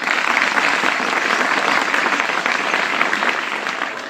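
Sustained applause from an audience at a school event marking Rajmata Jijau's birth anniversary, a dense, steady clatter of many hands clapping close by for the full duration with no pause.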